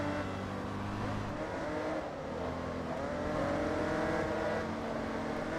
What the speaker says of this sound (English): All I hear is straight sixes.